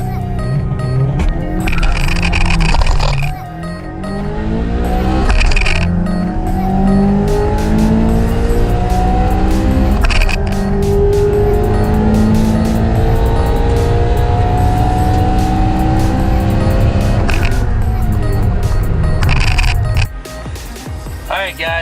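A car making a drag racing pass on a track, engine roaring loudly and steadily through the run with rising and shifting tones, then dropping off near the end; a voice talks over it.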